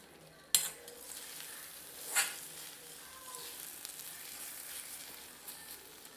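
Spinach and rice sizzle softly in oil in a pan while being stirred, a low steady frying hiss with a sharp metallic clink of the spoon near the start and another scrape a couple of seconds later.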